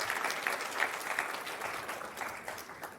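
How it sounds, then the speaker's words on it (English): An audience at an internal audit conference session claps in steady, dense applause at moderate distance, holding even before easing slightly toward the end. "So maybe a bit of a round of applause for these two interpreters"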